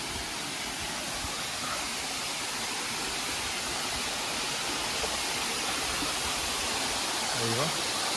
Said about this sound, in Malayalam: വെള്ളച്ചാട്ടത്തിന്റെ സൗണ്ട് കേൾക്കുന്നുണ്ട്.